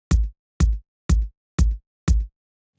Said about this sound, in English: That's the sound of a kick drum and something else, probably a hi-hat, filtered a little bit